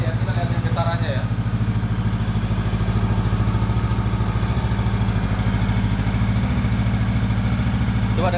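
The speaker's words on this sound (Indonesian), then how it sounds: "Coba dengarkan suara mesinnya." A Honda CB500X motorcycle engine idles close by with an even, rapid pulsing thrum throughout, with short bits of voice near the start and end.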